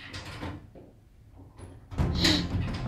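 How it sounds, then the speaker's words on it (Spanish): A house door opens with a soft mechanical click and creak, then a louder thump and rustle as it swings, heard nearby and alone without speech. "estoy escuchando la puerta"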